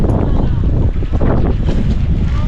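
Loud, steady wind buffets the microphone with a broad rushing roar, continuous throughout with no pauses.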